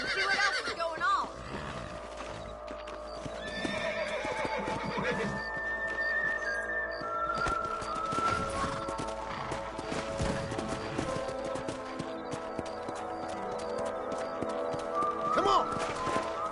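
Horses whinny and hooves clip-clop in the Western video game Red Dead Redemption, set against layered game music and ambience, with whinnies rising above the mix and steady hoofbeats underneath.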